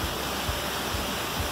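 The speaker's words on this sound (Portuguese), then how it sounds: "Vocês estão ouvindo o som do rio?" A river flows steadily beside a forest trail in Pedra Branca State Park, Rio de Janeiro, a continuous broad rushing wash of water, fairly faint and even, with no talk over it.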